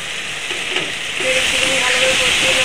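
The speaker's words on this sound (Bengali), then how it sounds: "দিয়ে ভালো করে মশলাটাকে কষিয়ে নেব।" Spice paste cooks in a hot pan, a steady close sizzling hiss that grows slightly louder partway through, with faint stirring scrapes and no talk.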